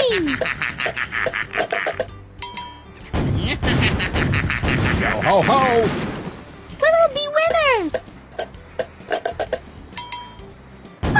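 Booming cannon shots and metallic clinks from a cartoon pirate game for kids, mixed with tonal jingles and sliding effects over a busy, loud background, with voices speaking throughout.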